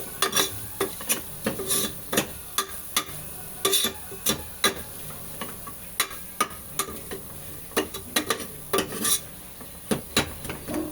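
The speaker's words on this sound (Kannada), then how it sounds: "ಚೆನ್ನಾಗಿ ಮಿಕ್ಸ್ ಮಾಡ್ಕೋಬೇಕು." A spoon scrapes and knocks steadily against a cooking pot as a mixture is stirred, with irregular, fairly close strokes repeating for about eleven seconds and a faint sizzle underneath.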